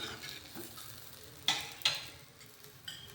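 A poha thalipith fries in a pan with a faint, steady sizzle, broken by two sharp scrapes and taps as it is turned over to the other side.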